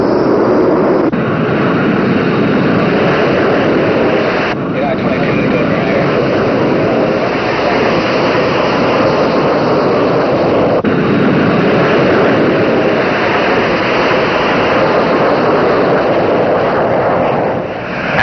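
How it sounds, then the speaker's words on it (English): A 1960s airliner roars loudly down LAX runway 25 on its takeoff run, a broad, steady jet rumble that holds nearly constant throughout, with no one talking. "A few minutes later, Flight 766 is in position for takeoff."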